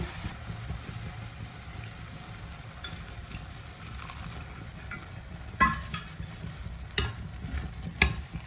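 Basella leaf stir-fry keeps sizzling steadily in a pan after a small splash of water goes in. A few sharper clanks and pops break through near the end. No one speaks.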